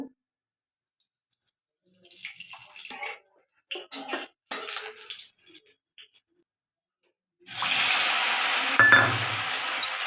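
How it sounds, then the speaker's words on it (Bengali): Paneer drops into hot oil in a wok for a vegetarian curry, first a few scattered clatters and taps, then a sudden loud, sustained sizzling hiss after a brief pause. "পনিরটা দিয়ে দিলাম তেলে"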